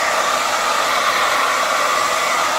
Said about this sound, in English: so right now I will use my blower. Well, it's not my blower. It's my wife's blower.